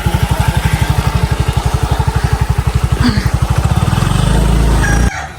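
A motorcycle engine runs close by with a steady, rapid chugging pulse that speeds up slightly toward the end, then cuts off abruptly.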